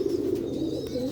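A pigeon coos close by in a steady, low, throaty rolling murmur, with faint high chirps in the background.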